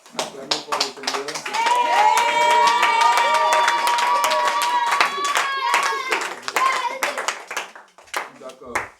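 A church congregation claps along and calls out in acclaim at a French-language service, with dense rhythmic hand claps under sustained voices and sung tones, loud and close.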